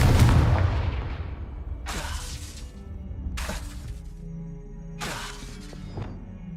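Confringo blasting spells in Hogwarts Legacy go off as a series of sharp explosive bursts, one heavy blast at the start and then three more spaced a second or so apart, each with a crackling, shattering tail over steady game ambience.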